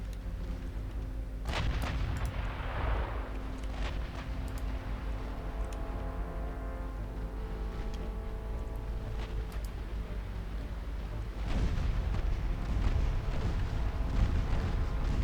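Torpedo hits and explosions in the naval game Ultimate Admiral Dreadnoughts, a continuous rumbling barrage with heavy booms and sharp bursts that swell louder near the end, with no talking.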